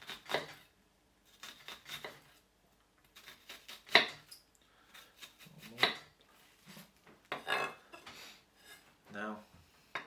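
A knife slices through an onion on a cutting board in a series of separate crisp taps and chops, while a person talks between and over the cuts.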